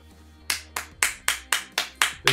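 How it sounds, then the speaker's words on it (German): Eight sharp hand claps at a slow, even pace, close and loud, with quiet gaps between them. "Ich kann nur klatschen."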